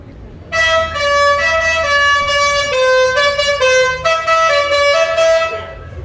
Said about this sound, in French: les klaxons ne sont pas en panne